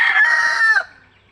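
A rooster crows once, loud and close, a shrill drawn-out call lasting under a second before cutting off into quiet.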